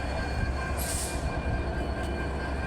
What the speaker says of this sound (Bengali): এই যে এটা খুলনাগামী ট্রেন